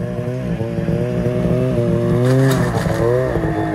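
Snowmobile engine skipping across water, a two-stroke-like buzzing whine rising and falling in pitch, loud and close, with a rough scraping edge and no talk.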